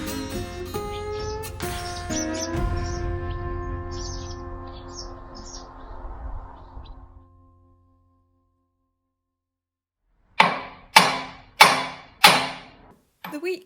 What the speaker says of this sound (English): The week began, as it often does, with some hammering